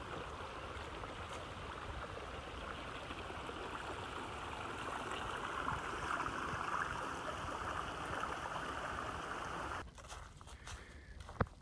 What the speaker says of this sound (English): came across another beautiful creek that I'm gonna cross